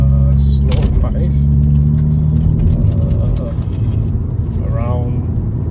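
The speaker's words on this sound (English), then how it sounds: "Just enjoying my Sunday drive, slow drive" An Alfa Romeo 159 2.2 JTS car drives slowly, its engine giving a steady low hum with a constant drone, while someone talks over it.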